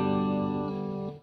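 An electric guitar with both humbuckers split, pickup selector in the middle position, rings out a single sustained chord that decays cleanly and cuts off after about a second.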